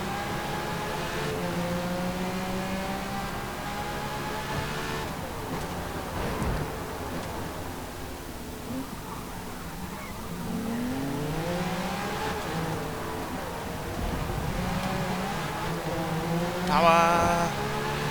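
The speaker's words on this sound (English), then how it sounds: "Immediately there's that acceleration up to 133 mile an hour before we even hit the first corner." A Porsche race car in the Forza Motorsport video game accelerates hard. The engine revs climb and fall repeatedly through gear changes, loud and continuous.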